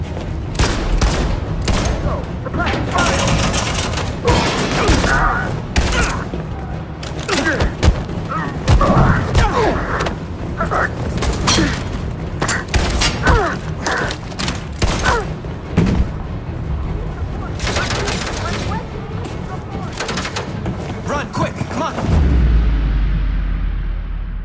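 Dense gunfire from the Detroit: Become Human video game, a sustained fusillade of rapid shots and heavy thumps crackling nonstop for about twenty seconds, with game voices shouting underneath.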